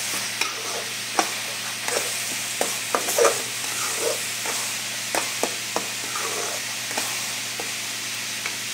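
Ground garlic frying in a pan, a steady sizzle with scattered sharp clicks and scrapes from stirring, close and moderately loud with no voices.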